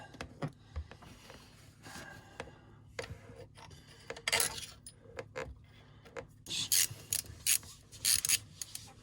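Ratchet wrench tightening bolts on a boat engine pulley and belt, heard as bursts of quick clicking and clattering metal mechanism noise, some close and fairly loud, with pauses between strokes and no talk.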